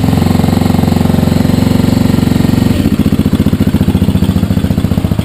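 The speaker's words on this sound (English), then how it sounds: "Electric start and kickstart, but obviously I'm not going to kickstart it because why would you when you have electric start?" A 2008 KTM 250 EXC-F dirt bike four-stroke engine runs loud and close, a fast steady thumping idle that shifts to a rougher, more pulsing beat partway through.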